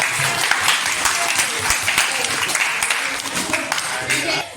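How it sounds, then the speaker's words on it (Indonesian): Students in a school classroom clap in a dense, steady burst of applause lasting several seconds, with voices audible underneath. "Tepuk tangan."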